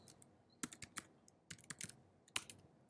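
Fast bursts of keyboard typing on a computer, clustered keystroke clicks in short runs separated by brief pauses, close and fairly quiet, entering a search keyword.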